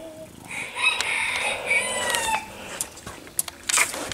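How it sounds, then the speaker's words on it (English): A rooster crows on a farm with goats and a dog around, its rising and falling call carrying through ambient noise, followed by scattered clucks and brief sharp sounds. "I heard a rooster crowing over there."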